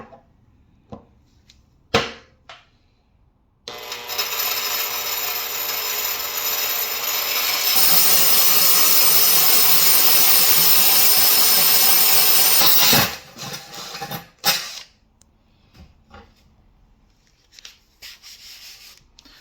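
A power drill with a masonry bit whirs loudly for about nine seconds, rising in pitch midway, then stops, framed by a few short clunks and handling noises.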